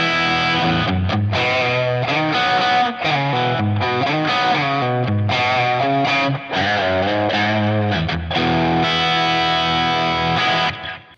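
An electric guitar runs through a Neural Amp Modeler capture of a Marshall amp, producing a loud, distorted, sustained tone as a quick riff of chords and single notes continues for about eleven seconds without speech.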